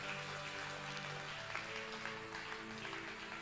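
A church congregation applauding during a service, a dense, steady wash of clapping from many hands that fills the room for a few seconds without talk.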